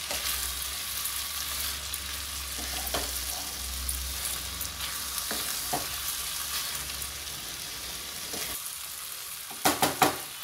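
Cluster beans and dal curry stirred in a hot pan, with a steady hissing sizzle throughout and a few soft scrapes of the spoon, ending in a quick cluster of louder clinks.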